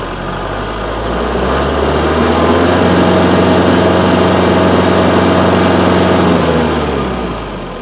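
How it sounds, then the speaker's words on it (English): A tractor engine sitting still, loud and near, climbs from low throttle to a sustained high-throttle roar, the rumble building over a couple of seconds, then holding steady before easing slightly at the end. "So I've got the tractor cranked up, and I'm just going to show you the difference when I go from the turtle, which is low throttle, to high throttle"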